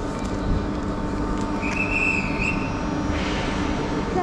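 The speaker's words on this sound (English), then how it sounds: "has been allowed to leave." TGV high-speed train at Lille Flandres station in France, a steady rumble with a brief high squeal of wheels or brakes midway, heard close in the station hall.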